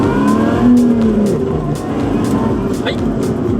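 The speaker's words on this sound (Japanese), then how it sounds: "でね、加速をしてみましょうか。" A Lotus Exige Sport 410 with a 3.5-litre V6 accelerates hard in sport mode, its engine note rising and roaring close by inside the car, with faint tire and road noise and a voice talking over it.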